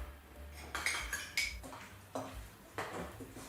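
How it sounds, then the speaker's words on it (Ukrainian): Flour and starch are mixed in a bowl for a zucchini cake, with a utensil clinking and scraping against the bowl in several quick, close strikes over a soft, quiet background. "До борошна викладаю крохмаль, також перемішую і викладаю до кабачків."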